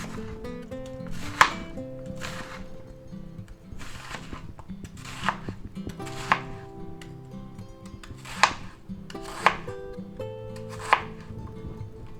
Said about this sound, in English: let's go ahead and slice this up